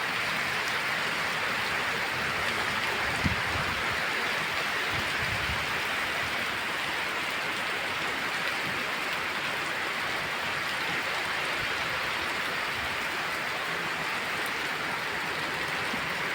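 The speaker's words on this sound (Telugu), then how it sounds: "ఇప్పటికే పదిహేను రోజుల నుంచి ఎడతెరిపి లేకుండా కురుస్తున్నటువంటి వర్షం ఇప్పుడే అందుకుంది" Heavy, steady rain pours down without letup in late afternoon, a dense broadband hiss that stays loud and even throughout, with floodwater flowing nearby and no voices.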